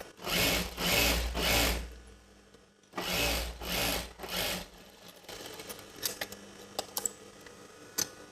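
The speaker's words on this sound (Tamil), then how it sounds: "ராங் சைடு வச்சு நம்ம இப்படியே மேலே ஸ்டிச் பண்ணிகிட்டே வரப்போகிறோம்" A sewing machine stitches chudidar pant fabric in two quick whirring bursts of about two seconds each, followed by quieter clicks and fabric handling.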